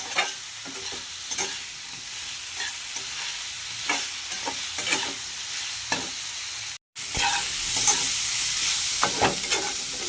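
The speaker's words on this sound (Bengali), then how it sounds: "এবার আমি লক্ষণ জোয়া জলটা দিয়ে দিলাম এটাকে আমি ভালো করে কষিয়ে নেব" Rohu fish curry masala, with water just added, sizzles in a pan while it is stirred. A steady frying hiss runs under repeated scraping strokes, with one brief cut before the sizzle returns louder.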